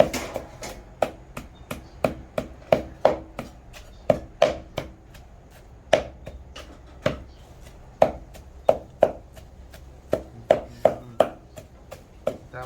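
Fried tilapia and green mango pounded in a mortar for a spicy Thai-Lao salad, a close run of sharp, fairly regular thuds about two per second that continues throughout, with no voices.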